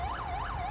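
An ambulance siren wails in a roleplay video game, a close, steady up-and-down tone cycling about twice in under a second over a low engine hum.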